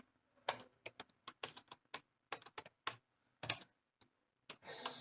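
Quick, uneven keystrokes on a computer keyboard come in short bursts with brief pauses, close and fairly quiet, while someone types code for a React address page.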